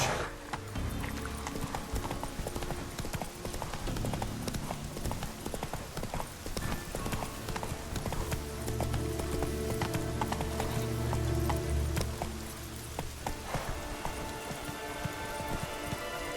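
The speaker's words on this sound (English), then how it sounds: "Run, Roach." Hooves clip-clop steadily as a horse gallops through The Witcher 3. The hoofbeats are dense and continuous and sit over a busy game soundscape with rain-like patter, and a faint whinny comes through.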